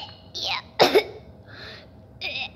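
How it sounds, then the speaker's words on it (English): Someone coughing and gagging in a few separate raspy bursts, one strong harsh cough in the middle and weaker throaty retches around it, close and alone. "you're like coughing and you're like gagging and stuff"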